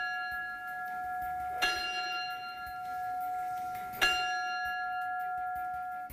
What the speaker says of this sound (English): 3 tolls of a bell, a tradition for a firefighter's last alarm